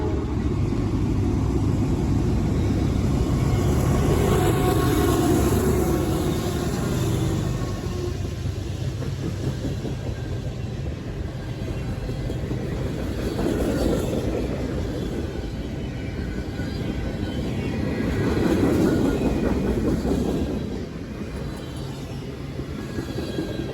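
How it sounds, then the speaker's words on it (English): CSX M566 freight train rolling through Berea, Ohio after dark and gradually picking up speed, a continuous rumble of wheels and railcars with swelling surges as cars pass, fading slightly toward the end. "As darkness came upon us, CSX M566 came through, progressively picking up speed"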